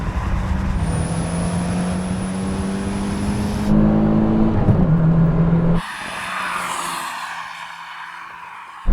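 A Suzuki Jimny drag races a Peugeot 205 GTI hot hatch, loud engine drone rising steadily through a gear, then a shift and a fresh surge, heard close and continuous.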